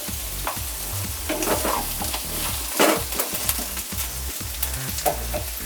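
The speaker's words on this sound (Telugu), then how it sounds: "ఈ ఉల్లిపాయలు ఎక్కువగా వేగనవసరం లేదు." Onions fry in a pan for a Brahmin-style tindora (ivy gourd) onion curry, giving a steady close sizzle broken by intermittent scraping stirs, with no talking.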